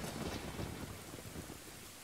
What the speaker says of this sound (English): Also, hey, Dompei, you don't mind the sudden lightning storm, do you?